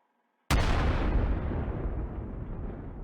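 A standard grenade detonates in the video game Call to Battle 2: one sudden, loud boom after a short silence, followed by a long, rumbling decay.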